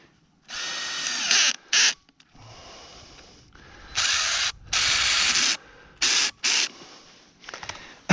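A ratchet tightening a no-hub coupling onto a Schedule 40 PVC pipe fitting, loud close bursts of rapid clicking in several spurts of varying length separated by short pauses.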